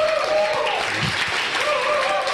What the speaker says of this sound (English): Let's give these guys another hand, round of applause.